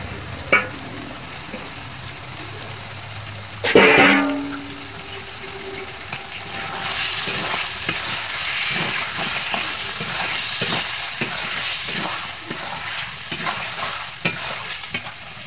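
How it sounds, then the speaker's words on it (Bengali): Mutton pieces drop into spiced, well-fried masala oil with a sudden splash and burst of sizzle, followed by a long steady fry broken by repeated stirring scrapes and clinks of a spoon against the pan. "মশলাটা কষানো হয়ে গেছে, তেল ছেড়ে দিয়েছে, এবার মাটনগুলো দেবো"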